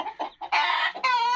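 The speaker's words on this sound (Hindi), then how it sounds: "सारे मुर्गियां मुर्गे देखें, हमारे सारे परिंदे परेशान हो गए हैं" Agitated hens and roosters cluck loudly and close by in a few sharp bursts, then one longer harsh squawk, with no talking.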